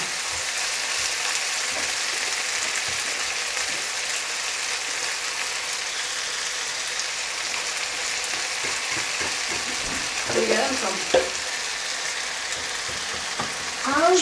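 Fajita pan contents sizzle steadily as liquid cooks off, a continuous bright hiss of frying with a few louder crackles and stirring sounds near the end.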